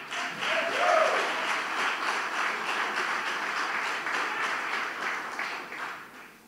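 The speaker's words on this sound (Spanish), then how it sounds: "No hay que decirle de que aplaudan." In church, a congregation breaks into sustained, dense clapping, with a brief raised voice near the start, before the applause tapers off at the end.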